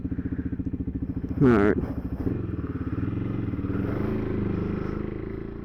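A KTM 390 Adventure motorcycle riding off road on Little Tom Road, its engine droning steadily close by with a brief clattering burst partway through, while a rider speaks briefly over it.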